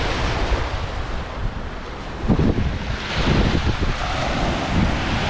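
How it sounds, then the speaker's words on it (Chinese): Strong wind blows across the Bosten Lake shore, a continuous rushing roar with heavy gusts buffeting the microphone and breaking waves washing in beneath, swelling louder in the middle. "这完全就是刮风"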